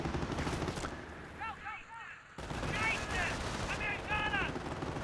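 Machine gun bunker firing in a Company of Heroes battle, with rapid bursts of gunfire and explosions in a dense game mix, briefly dropping off before resuming loudly.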